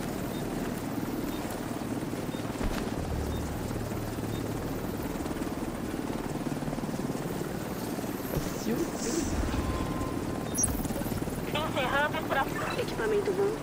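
A helicopter in the video game The Division 2 gives a steady, moderately loud rotor drone throughout, with people talking over it.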